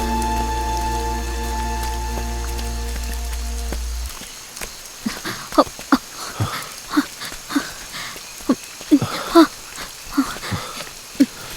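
Rain falling outdoors, heard after a steady humming tone cuts off, then as irregular close drips and patters landing on a surface with quiet gaps between them.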